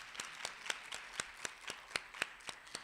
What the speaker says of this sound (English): We can clap for them if you like.